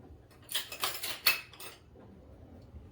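Hand rummaging among cutlery for a teaspoon, a short cluster of metallic clinks and rattles at close range, lasting about a second before settling into near quiet.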